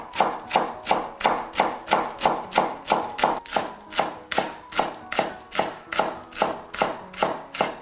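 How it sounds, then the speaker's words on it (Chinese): A knife chops rolled scallion into thick shreds on a board, about twenty-five crisp, evenly spaced strokes in a fast steady rhythm, close and clear with no talking. "再把大葱像我这样卷起来，切成粗粗的细丝。"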